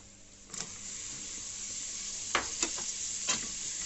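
Minced meat and onion frying in a pan give off a steady low sizzle, broken by a few sharp scraping stirs near the mic.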